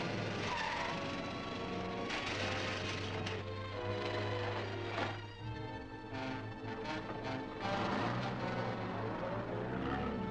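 A car skids with a sustained rushing screech over a steady low engine drone, faint and fairly distant throughout, with no voices.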